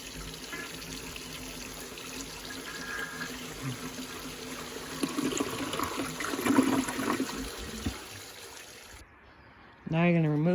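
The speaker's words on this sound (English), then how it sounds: "Next, flush the toilet to remove any remaining water from the tank." Toilet flushed with its water supply shut off, water rushing and trickling from the tank for several seconds before a brief pause, a voice breaking in at the end.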